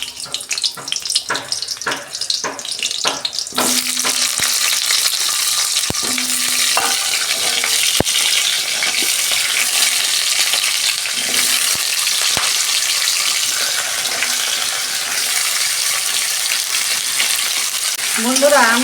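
Vegetables for a biryani fry loudly in ghee and oil, a dense continuous sizzle that swells in after a few seconds of clattering pulses, holding strong throughout with light stirring scrapes.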